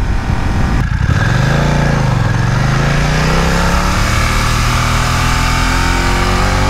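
A 2020 BMW F900R motorcycle accelerating hard at wide open throttle, its engine revving up through the gears with a brief dip at a shift, loud and close, then holding a rising, steady roar.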